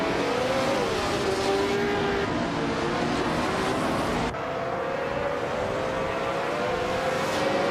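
Engine of a classic 1967 McLaren M5A race car in a racing video game at Detroit Belle Isle, a loud sustained roar with rising pitch through the gears and a brief gearshift dip midway.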